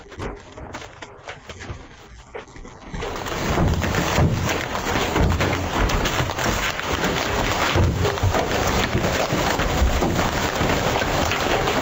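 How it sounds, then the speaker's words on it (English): Hailstones pelt parked cars during a hailstorm in Turkey, a dense, loud, continuous clatter that suddenly intensifies after a few seconds and stays heavy, with wind buffeting the microphone. "These images show how the hailstones fell with a loud noise on the cars."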